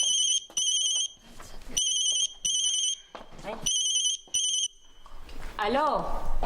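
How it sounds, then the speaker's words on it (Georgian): A telephone rings in loud, repeated electronic bursts separated by short gaps, with people talking between the rings and afterward. "ტელეფონი."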